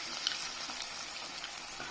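Chopped onions and tomato fry on low flame in a pan for dal fry, giving a soft, steady high sizzle with faint crackles throughout, quiet and without talk.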